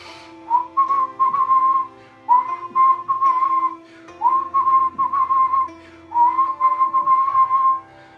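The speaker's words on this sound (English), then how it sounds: "And then you whistle." A person whistles during a breathing exercise, four sustained steady tones each lasting about a second and a half with brief breaths in between, close and clear with nothing else heard.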